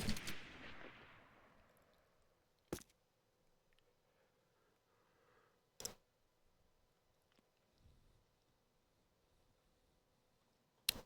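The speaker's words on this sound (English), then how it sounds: "Spirit firing his shotgun in rush house." Shotgun blasts in a first-person shooter match: three or four sharp, isolated reports spaced a few seconds apart, with near-silence between them and a brief noisy tail at the start.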